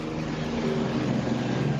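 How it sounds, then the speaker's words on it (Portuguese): A helicopter passes overhead above a football club training ground, a steady broadband rotor and engine roar, moderately loud and unbroken over a short stretch with no talk. "Tá passando o helicóptero aqui em cima,"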